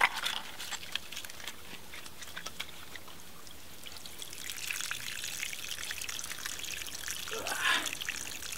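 Water gurgles and trickles softly as it siphons through a ram pump drive pipe, a faint continuous flow that swells slightly toward the end.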